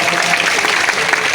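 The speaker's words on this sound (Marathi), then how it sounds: "पतसंस्थेसाठी आपण एकदा जोरदार टाळ्या वाजवूया" An audience at a credit cooperative's annual general meeting in Chikhli bursts into loud, dense applause that continues without a break.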